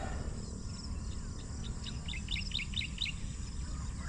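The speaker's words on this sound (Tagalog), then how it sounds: "yung huni ng ibon" A bird chirps in a quick run of short, high tweets over a steady rumbling outdoor background in farmland in San Ildefonso, Bulacan, Philippines, moderately distant.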